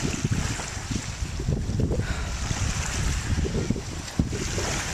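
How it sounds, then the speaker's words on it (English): Strong wind roars steadily across a long dock walkway by the ocean, buffeting the microphone with low rumbling gusts and a constant broadband rush, with faint surf underneath and no voices. "Maybe the wind isn't going to quiet down enough for me to talk."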